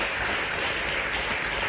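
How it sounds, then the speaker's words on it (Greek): An audience at a live television show applauds steadily throughout, a dense, even wash of clapping at full volume. "Αυτό θέλει χειροκρότημα, παιδιά."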